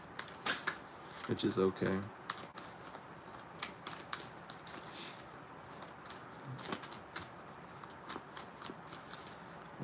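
Oracle cards being shuffled during a late-night card reading, a quiet papery riffling with soft slaps and brief bursts, spread through the clip under a woman's calm speech.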